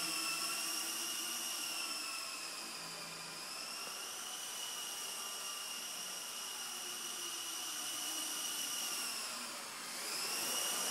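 A Solo Pro 328 RC helicopter flies indoors with a steady high rotor whine and motor hum, close and continuous, pitch easing down and back up as throttle changes.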